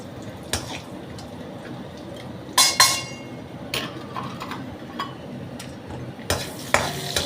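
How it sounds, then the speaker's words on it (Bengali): Oil sizzles steadily as lentil dumplings fry, broken by a few sharp clinks and scrapes of a spoon stirring in the pan. "তেল গরম হয়ে গেছে এবার বড়ি কটা ভেজে তুলে নিচ্ছি"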